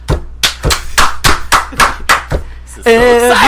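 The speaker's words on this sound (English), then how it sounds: "I will really applaud that song." One person clapping hands in applause for a song, about nine sharp, close claps in a steady rhythm, followed by a voice.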